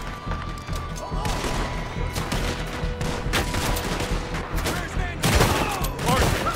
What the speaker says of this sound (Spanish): Buen disparo, buen disparo.